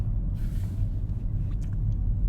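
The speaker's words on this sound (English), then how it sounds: "As I see this garbage truck." A garbage truck passes close by, its heavy engine rumbling low and steady, with a brief hiss of air brakes early on and faint sounds above the drone.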